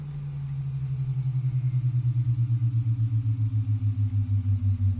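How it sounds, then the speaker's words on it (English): A de-ice truck engine at an airport drones steadily nearby, a low throbbing idle that pulses evenly while its pitch slowly sinks, with no voices. "That's a de-ice truck."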